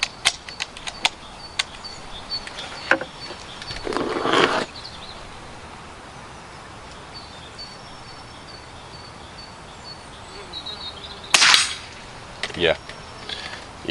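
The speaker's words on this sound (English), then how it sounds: "I'm going to put, if I've got the rounds, a shot in the bottom right hand target and a shot in the top right hand target" Air rifle shots fired at paper targets, two sharp cracks spaced several seconds apart, close and fairly loud, with quiet outdoor insect-like background between them.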